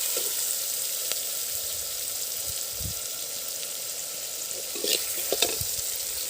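Onions sautéing in a pan for goat intestine gravy, with a steady close sizzle, a few stirring scrapes and clicks, and a soft low rumble underneath.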